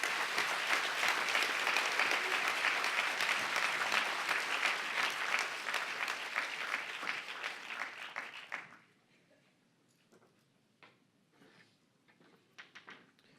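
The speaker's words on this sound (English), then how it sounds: "Can we have another round of applause?" A conference audience applauds after a morning address, a full room of steady clapping for about eight seconds that stops abruptly, leaving scattered faint taps and quiet room noise.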